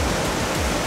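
Waterfall in Glacier National Park with very blue water, a dense steady rushing roar filling the moment, loud and close.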